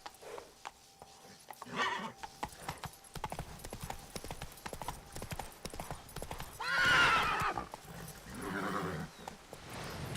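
Horse hooves clip-clop at a gallop in Witcher 3, a steady rapid beat broken by two loud neighs and whinnies, close and clear over light game ambience.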